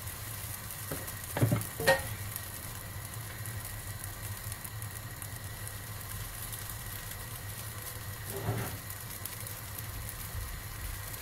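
Pancake batter frying in a pan, a soft steady sizzle throughout with a couple of brief clinks and scrapes near the start, close and without talk.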